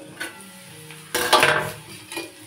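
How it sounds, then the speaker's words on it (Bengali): A metal lid clatters onto a cooking pan with frying onion stalks and potatoes, one short sharp clang and rattle partway through, otherwise a quiet kitchen background with no talking. "তাই ঢাকাটা দিয়েই দিলাম।"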